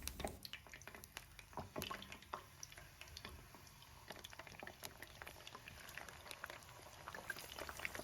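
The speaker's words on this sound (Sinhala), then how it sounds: "අපේ බතල ටික වෙන වෙනම එකින් එක අපි මේ තෙල් එකට එකතු කරගමු." Sweet potato pieces dropped into hot oil for chips sizzle and crackle steadily at close range, with scattered pops and bubbling spread through the whole stretch and no talking.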